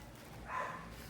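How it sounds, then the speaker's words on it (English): One faint dog bark from somewhere in a suburban neighbourhood, heard at a distance over a quiet outdoor background. "Sorry for the dogs, but it's suburbia."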